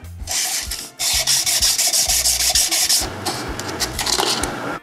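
Hand sanding a boat hull with 150 grit sandpaper wrapped around a block, quick repeated back-and-forth scrubbing strokes, close and steady, without voices.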